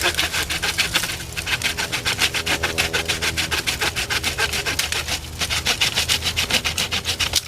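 A cheap $4.50 portable hand saw cuts through a thick tree branch with fast, steady back-and-forth strokes. The rasping rhythm is close and continuous and briefly slackens near the five-second mark. No one speaks.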